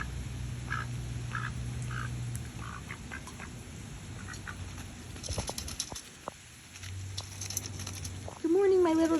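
A pet drake quacks in short bursts near the microphone on a rainy morning, with steady rain patter and someone talking to it.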